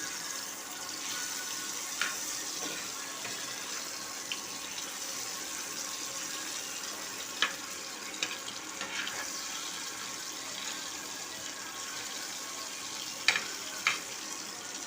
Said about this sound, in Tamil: மீன் நல்லா வேகிற வரைக்கும் எண்ணெயிலேயே திருப்பி போட்டு வறுத்துக்கணும்.